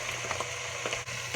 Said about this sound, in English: you can give this a stir and let it cook for a couple more minutes